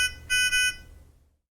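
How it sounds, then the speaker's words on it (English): Nonin PalmSAT 2500 handheld pulse oximeter sounding its audible alarm: two short electronic tone bursts in quick succession, fairly loud and close, then fading into silence. "You can silence the audible alarm for 2 minutes by momentarily pressing the on-off button"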